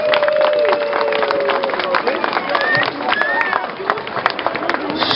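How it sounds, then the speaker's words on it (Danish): Crowd applause for two boxers at an amateur boxing event in Bagsværd, sharp hand claps and cheering rising over background chatter and loudspeaker talk, with a few whistles cutting through. "Tag lige og giv de to bokser et bragende bifald"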